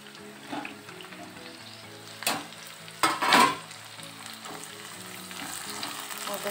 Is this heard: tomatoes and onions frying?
yes